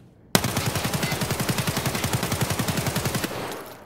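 Full-auto burst from an AKSh rifle in Escape from Tarkov: a sharp first crack, then a fast, even string of around thirty close, loud shots lasting about three seconds before fading into silence.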